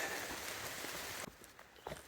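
Rain falling on the Appalachian Trail, a dense hiss of drops on surfaces that suddenly stops partway through, leaving only a few scattered faint drips afterward.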